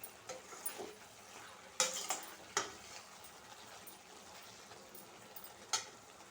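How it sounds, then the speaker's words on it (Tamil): Chicken masala is stirred in a pan, with a spoon scraping and knocking against the metal in scattered sharp clicks over a faint, steady sizzle, quiet and close. "இப்போ நல்லா மசாலா கலவையில் நல்லா ஒரு பெரட்டிட்டு"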